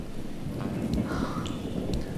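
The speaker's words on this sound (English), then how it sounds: "Oh man, now it's raining!" Rain in the video game Jazzpunk, a steady close hiss of falling rain with a low rumble beneath it, brief and continuous with no talking.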